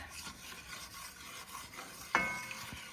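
A roux is stirred in a pan with soft, continuous scraping and light sizzling, punctuated near the end by a sharper clink of the utensil against the pan.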